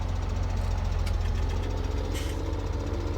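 A tractor engine idles in Farming Simulator 2017, a steady, loud low rumble with a regular knocking pulse that holds evenly throughout, with no voices.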